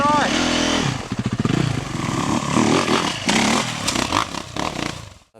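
A 2011 Yamaha YZ450F motocross bike accelerates on a test ride, its engine revving loudly and close in rising, choppy bursts, with people talking over it.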